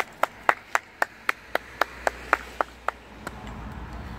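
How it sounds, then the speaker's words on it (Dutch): An audience claps for the winning group, Groep Demos, at an outdoor contest: about a dozen sharp, evenly spaced claps close by, slowing and fading toward the end, with no talk. "hartelijk geapplaudisseerd door al het publiek hier."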